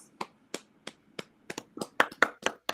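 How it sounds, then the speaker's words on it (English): A handful of sparse, separate handclaps from a panel audience at a Black Women in Cyber event, irregular and fairly close, never building into full applause. "So can we just get a quick round of applause?"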